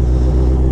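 A motorcycle engine gives a steady, close, low drone with a rough rumble for under a second. No rising or falling rev is evident.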